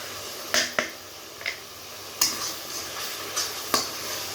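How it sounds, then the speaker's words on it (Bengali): Masala paste frying in a pan for a mixed vegetable and fish curry with potatoes, a low steady sizzle punctuated by several sharp, close spatula taps and scrapes at irregular intervals. "এবার মশলাটা একটু কষিয়ে নিব"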